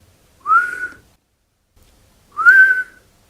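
A thin whistle comes through a gap in a broken tooth as someone breathes in, two rising tonal whistles about two seconds apart, close and clear against silence.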